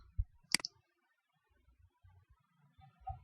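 A single sharp computer mouse click sounds near the start, clear and close, in a quiet room with faint low murmurs and small handling noises around it.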